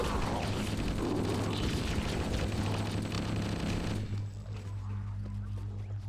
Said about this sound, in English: That was the fuel rod launcher.